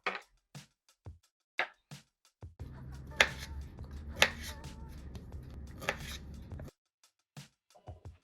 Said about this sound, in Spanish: como están muy grandes las voy a cortar en trocitos